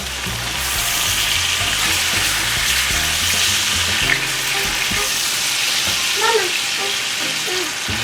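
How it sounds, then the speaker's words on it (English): Steak pan-searing in butter makes a loud, continuous sizzle with crackling and spattering up close, steady from start to finish, with a faint voice in the background. "this is generally an effect that you'll get with your steaks if you pan sear them like this"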